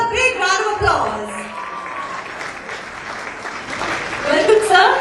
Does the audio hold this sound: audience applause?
yes